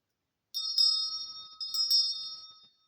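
A small bell rung to open a tarot reading session: two clear, bright metallic strikes about a second apart, each ringing on and fading in an otherwise silent room.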